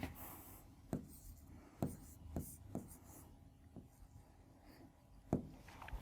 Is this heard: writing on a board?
yes